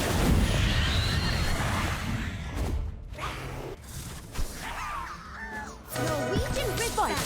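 Fiendfyre spell card effect in the video game Harry Potter Magic Awakened, a roaring fiery blast with explosive bursts that flare, dip and surge again, followed by shrill swooping magical tones.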